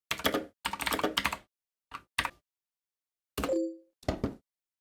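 Typing on a computer keyboard, close and crisp: quick bursts of clattering keystrokes separated by short pauses, with a few isolated taps and a brief electronic ding near the end; no talk.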